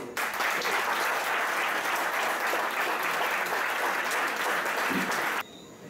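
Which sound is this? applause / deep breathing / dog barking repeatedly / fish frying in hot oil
applause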